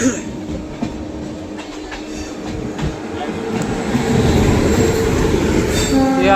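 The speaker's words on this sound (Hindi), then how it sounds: "ये आ गई भाई पद्मावत एक्सप्रेस।" The Padmavat Express rolls past at a station between Tundla and Delhi, loud and close, its rumble building to a heavy roar with wheel screech and clattering rail joints, a voice briefly heard amid the noise.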